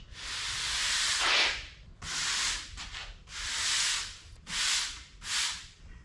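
A broom sweeps West Texas sand, dirt and debris across a shop floor in several separate strokes, each a rough, gritty swish, close and fairly soft, with short pauses between.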